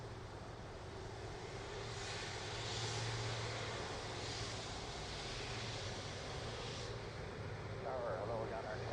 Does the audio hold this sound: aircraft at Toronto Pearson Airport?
yes